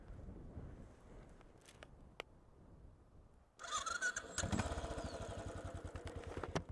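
A 2016 Royal Enfield Bullet 500 motorcycle starts after a short crank, its single-cylinder engine catching and settling into a loud, steady thumping idle with no one speaking.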